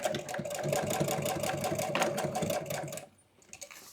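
A sewing machine runs a fast burst of small stitches through a welted boat cushion, a steady mechanical whirring rattle for about three seconds before stopping abruptly into near quiet.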